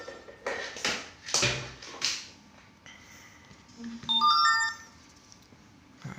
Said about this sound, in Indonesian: di sini notif keluar ya, peringatan bling suhu bayi panas ya